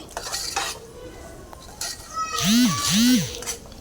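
Tomato masala frying for tomato rice is stirred in a pan, with spoon scrapes and clinks against the metal. Midway come two rising-and-falling tonal cries, and faint background noise runs throughout.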